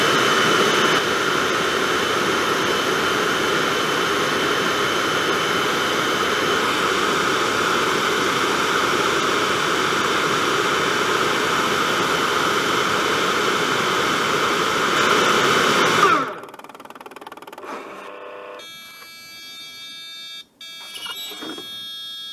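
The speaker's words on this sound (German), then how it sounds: "wenn er hier mit den Föhns gleich aufhört, dann ist auch wirklich exakt die Platte trocken" Gläss Vinyl Cleaner Pro X record-cleaning machine blowing its dryers across a vinyl record: a loud, steady broadband whoosh held for about sixteen seconds, then cut off abruptly, leaving faint mechanical clicks and a thin electronic tone.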